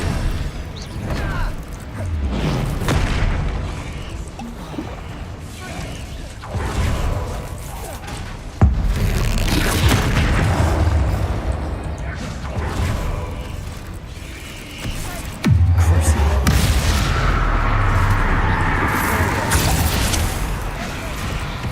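Spell blasts and impacts in Hogwarts Legacy, dense loud bursts and rumbling booms rolling almost continuously, with sharper hits near the middle and later, under a voice shouting spell names.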